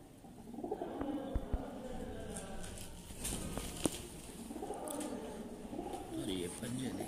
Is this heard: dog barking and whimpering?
no